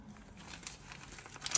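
Old plastic bags holding Toyota 80 Series Land Cruiser U-joint parts crinkle and rustle at close range, with light scattered crackles and a sharper crunch near the end, and no talking.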